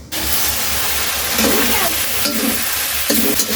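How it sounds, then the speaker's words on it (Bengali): Blended spice masala fries loudly in a covered pan, a dense steady sizzle with intermittent stirring scrapes close by. "একদম মশলাটা ভাজা ভাজা হয়ে গেছে"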